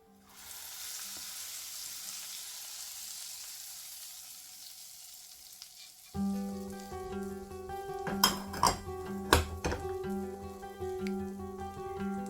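Hot tempering bursts into a loud sizzle as it is poured into a pot of sambar, a spicy South Indian lentil curry. A soft, steady fry comes first, then sharp crackling and spoon clinks on metal.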